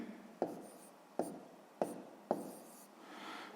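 Pen or pencil writing a fraction answer on paper, four distinct scratchy strokes spaced about half a second apart, each starting with a sharp tap and trailing off, close and quiet.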